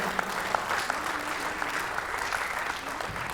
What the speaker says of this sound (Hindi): एक बार फिर तालियों से इसका आवाज दें